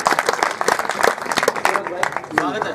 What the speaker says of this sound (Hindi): तालियां बजा दीजिए भाई परमानंद दादी